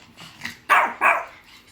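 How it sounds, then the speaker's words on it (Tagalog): A puppy barks two loud, close yaps in quick succession after a few softer, fainter yips. "Kahul ka. Dali, kahul."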